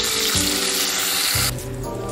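Teasel gourd pieces frying in oil in a pan, a loud dense hiss close by, with a low hum underneath, easing slightly toward the end, no voices.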